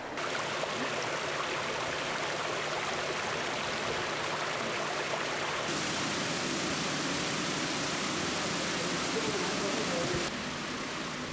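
Waterfall in Isalo National Park, Madagascar, among palm trees, giving a loud, steady broadband rush of falling water throughout, with no talking.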